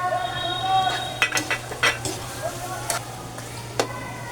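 Tomatoes dropped into chicken frying in oil for Chicken Bicol Express, a soft continuous sizzle with sharp clinks and scrapes of a utensil against the pan, close and moderately loud.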